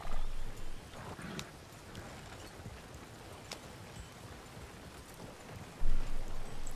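Hooves of a horse-drawn coach clip-clop along a trail in a Wild West role-play video game, a steady, fairly faint rhythm under ambient noise, with a couple of louder bumps.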